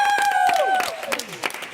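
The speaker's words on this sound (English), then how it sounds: "Give them a bit of a cheer." An audience cheers and applauds the WAF Estonian Choir at a World Cleanup Day event: dense, sustained clapping and crowd noise close by, with a high sliding tone rising above the crowd early on.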